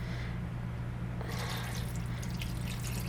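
Bottled spring water pours into an Instant Pot in a small RV kitchen, a continuous close splashing stream that gets brighter and fuller partway through, with no talk over it.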